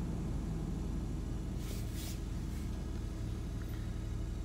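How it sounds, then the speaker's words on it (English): A 1995 Toyota 4Runner engine idles steadily during a cold start, a constant low rumble heard up close with no speech over it. "But so far the engine's running good. It's just having its cold start."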